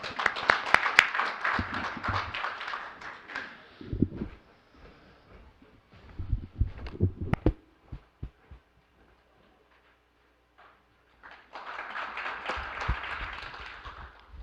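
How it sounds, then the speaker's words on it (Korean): Bursts of clapping and applause from an audience at a metals and materials society general meeting lecture, loud at first, then fading to quiet, with a second round of clapping near the end. "큰 박수로 맞이해 주시기 바랍니다."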